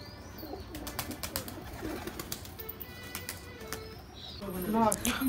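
Giribaj and Madras pigeons coo at a pigeon sale in Ichapur, West Bengal. Soft, close coos repeat throughout over a busy background, and louder calls come near the end.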